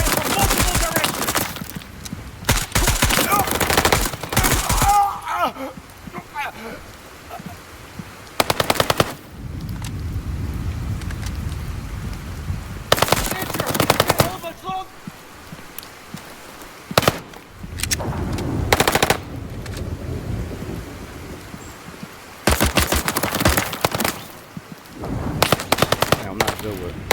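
Gunfire in the tactical shooter Incursion Red River comes in loud, close automatic bursts and single shots, separated by quieter gaps over about half a minute.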